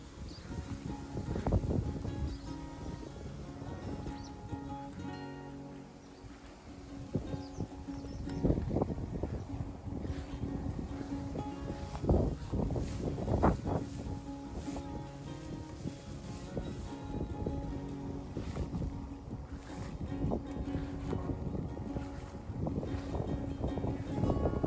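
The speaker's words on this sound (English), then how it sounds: "Cool, windy afternoon field. Wind blows very strong," Strong wind gusts across an open grassland field on a cool afternoon, a steady rumbling roar buffeting the microphone with louder surges throughout.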